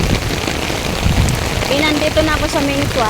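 Heavy rain pours steadily on surfaces outdoors near a church, a loud, constant hiss with someone speaking briefly over it.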